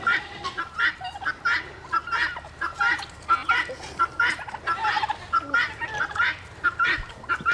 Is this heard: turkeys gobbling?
yes